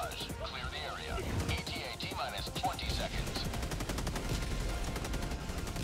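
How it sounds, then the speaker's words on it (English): An artillery walking barrage in the Helldivers 2 video game, a rapid series of distant blasts and gunfire cracks running steadily under overlapping game noise and spoken voices. "Walking barrage going out."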